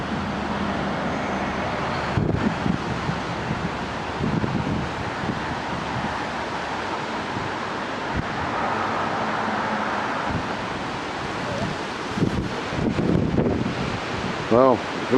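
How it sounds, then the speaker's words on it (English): Strong wind buffets the microphone outdoors beside a burnt-out Fendt tractor and Krone baler at a 2019 harvest, a constant loud roaring rumble with gusty surges throughout. "I wish it weren't so windy."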